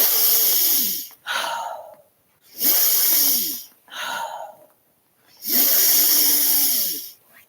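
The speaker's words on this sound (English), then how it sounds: "So we'll breathe in." Slow, deep, audible breathing up close, three long noisy breaths with a soft throaty rasp, each separated by a short quiet pause, with a shorter snorting breath between them.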